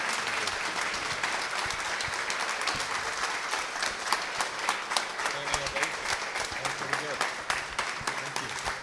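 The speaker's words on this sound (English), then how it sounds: "Can we give a big round of applause" A conference audience at a Startup Grind event in San Francisco gives George Zachary a sustained round of dense, even applause, with a voice speaking over the clapping.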